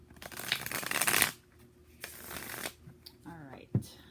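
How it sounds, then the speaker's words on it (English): Tarot cards are shuffled in quick riffling bursts, a long ruffle followed by shorter ones, with a person talking in between. "I'm trying to shuffle away from the microphone."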